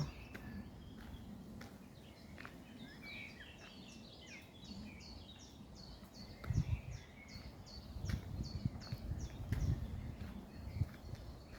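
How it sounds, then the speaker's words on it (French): Birds chirp and trill in the open air, several small calls scattered over a soft background, with some rustling footsteps nearby. "Écoutez le chant des oiseaux."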